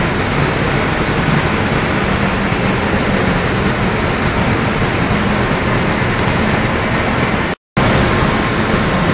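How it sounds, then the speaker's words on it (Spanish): A double waterfall in Peru roars loudly and continuously as a steady wash of falling water, broken only by a momentary dropout. "Sí, doble cascada."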